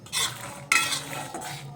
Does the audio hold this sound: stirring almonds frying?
yes